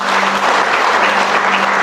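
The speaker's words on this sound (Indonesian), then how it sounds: "Kasih tepuk tangan yang meriah." A church congregation gives loud, dense, steady applause after a sermon, sustained and even throughout with no voices over it and a faint low hum underneath.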